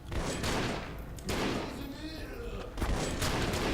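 Gunfire in the first-person shooter E.Y.E: Divine Cybermancy, played in co-op: bursts of shots recur across the stretch with dense broadband noise throughout, loud and close, and someone talks over the fighting.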